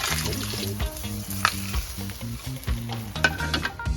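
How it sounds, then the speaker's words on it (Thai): Mackerel frying in a pan over high heat, a constant close sizzle with spattering pops, alongside rhythmic tonal clatter in the background. "ทอดปลาทู นี่จากเมื่อกี้ไฟแรงครับ"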